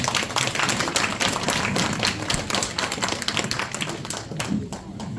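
Audience clapping for a council member at a neighborhood redevelopment briefing for residents, a dense, close, uneven patter of hands that thins slightly toward the end.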